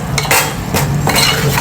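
A spoon scrapes and stirs food in a pan while cooking kupa kalwan, a spicy Maharashtrian dish, with several loud, close strokes that clink against the metal.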